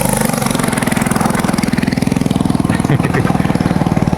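A motorcycle engine runs steadily close by on a coastal village path, its rapid regular throb loud and continuous throughout.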